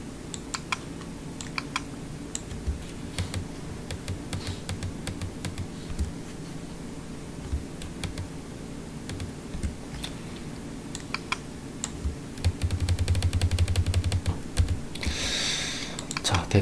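Typing on a computer keyboard while pressing Shift and the arrow keys: scattered sharp key clicks recur throughout, with a denser burst of clicking near the end. A faint background hum sits underneath.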